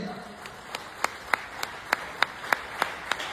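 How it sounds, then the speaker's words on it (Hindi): Sparse, slow hand claps at a business-plan seminar, about a dozen single sharp claps spaced evenly like one or two people clapping in rhythm, fairly faint in a quiet hall. "तालियां कम बज रही है"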